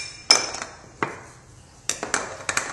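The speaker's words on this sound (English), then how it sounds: "we're going to start by clearing our cutting board a little bit of all this mess" Items being cleared off a kitchen cutting board, with a few sharp knocks and clinks of utensils and cookware set down close by, spaced out irregularly over a quiet background.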